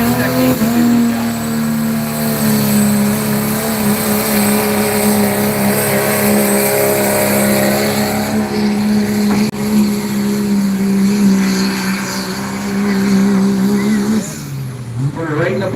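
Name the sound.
pulling truck launching off the starting line at a truck pull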